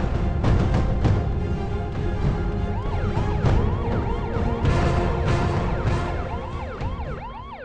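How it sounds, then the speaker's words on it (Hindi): Ambulance siren wailing in repeated rising and falling sweeps, loud and continuous over rumbling traffic noise, with no voices. "एम्बुलेंस"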